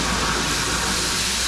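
Water gushing from a tap fed by a CNP PM370S pressure pump set to 1.5 bar: a loud, steady, broadband rushing hiss with no pauses.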